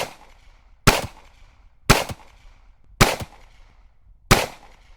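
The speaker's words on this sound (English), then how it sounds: "Let's try out the revolver and see how it goes." Five sharp, loud revolver shots ring out one by one, roughly a second apart, each with a brief decaying tail, as targets are fired on in an Unreal Engine 5 video game.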